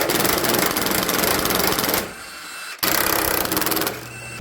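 Rapid ratcheting whir of a wrench backing out a 15 mm frame bolt during a frame restoration, a dense mechanical rattle that halts briefly, then resumes close by.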